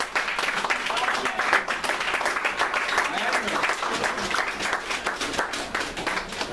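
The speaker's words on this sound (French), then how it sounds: "Nous allons inviter le serviteur de Dieu sous les acclamations." A church congregation applauds with rapid, rhythmic clapping and cheering voices during a worship gathering, loud and continuous throughout, with the crowd's shouts mixed into the clapping.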